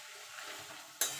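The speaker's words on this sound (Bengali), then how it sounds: "দিয়ে মশলার সঙ্গে ভালো করে কষিয়ে নেব।" Taro and potatoes sautéed with spices give a soft, faint sizzle with a brief stirring scrape near the end, heard alone for about a second.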